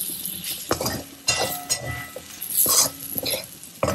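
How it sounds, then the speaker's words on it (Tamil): Green chilies and amchur (dried mango powder) frying in a pan, with scattered clinks and scraping stirs against the metal over a soft sizzle, irregular and close. "இதெல்லாம் போட்டுட்டு ஃப்ரை பண்ணிட்டு பாருங்க, நல்லா ஃப்ரை ஆயிடுச்சு"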